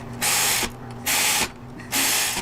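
A ratchet tightens the rotor bolts on a Harley-Davidson Softail wheel. Three loud, even bursts of rapid clicking come up close, separated by short pauses, with no talk.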